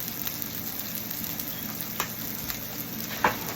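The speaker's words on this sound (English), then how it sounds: "So, while we're letting the onions fry and saute" Onions sautéing in a pan for hash browns, giving a soft continuous sizzle with a couple of brief clicks or stirring touches.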